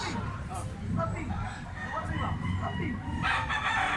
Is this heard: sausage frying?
no